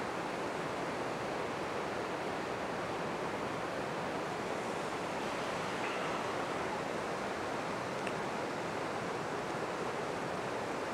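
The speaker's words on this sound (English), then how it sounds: "I'm going to focus bang in the middle of where the cascade comes down." A waterfall cascading down outdoors, a steady, dense broadband roar of falling water that stays constant and fairly loud throughout, with no voices.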